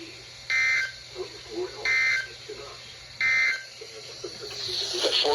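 Three loud, evenly spaced buzzing alert tones from a NOAA weather radio during a required weekly test, each about a third of a second long. Quieter broadcast noise fills the gaps, and speech rises toward the end.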